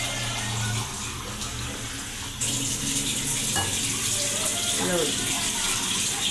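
Water is poured from a tap onto rice in a pot to soak it, a steady splashing rush that runs throughout, with someone speaking briefly over it.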